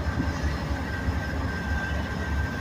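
A fully loaded coal train's CW44 AC locomotive rumbles steadily up close with its cooling fans running and dynamic brakes engaged, a dense continuous low roar with a faint steady high whine and no one talking.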